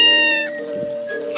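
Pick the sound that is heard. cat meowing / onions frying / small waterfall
cat meowing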